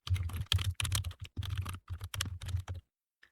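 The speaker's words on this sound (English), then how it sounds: "I'm going to type them out" Quick typing on a computer keyboard: close, crisp key clicks in short bursts with brief pauses, then stopping near the end.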